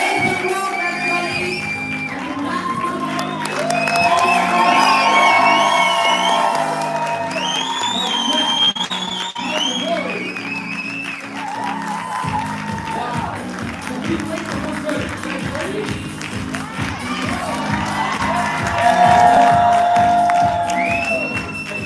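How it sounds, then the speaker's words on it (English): A crowd at an outdoor gathering for Daniel G and Provident claps, cheers and whoops loudly and steadily. Excited shouts and voices blend in, and the noise swells again toward the end. "Big round of applause."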